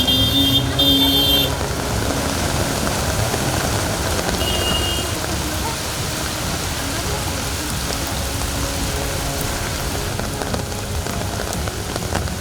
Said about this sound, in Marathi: नागपुरात मध्यरात्रीपासून जोरदार पाऊस सुरू आहे